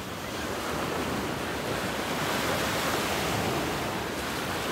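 Ocean waves roll onto Waikiki Beach on Oahu, Hawaii at sunrise, a continuous even wash of surf with light wind noise, steady and unbroken throughout.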